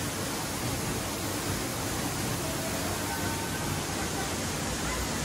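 A waterfall at Gingoog City in the Philippines heard as a dense, steady roar of rushing water that fills the whole stretch evenly, loud and close, with no clear voices.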